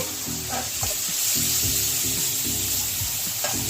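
Shrimp fry in oil in a pan for a Bengali pointed gourd and shrimp dish. A loud, steady sizzle runs throughout, broken by occasional scraping and clinking from stirring, with no voices.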